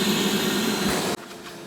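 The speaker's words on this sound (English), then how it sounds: "we're gonna follow it up with the vacuum again" A vacuum cleaner runs steadily while cleaning the carpet of a car interior during a detailing job, a loud continuous whine that cuts off abruptly, leaving only quieter background noise.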